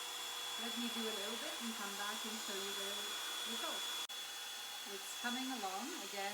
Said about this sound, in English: I think it blow dries a little smoother than the other one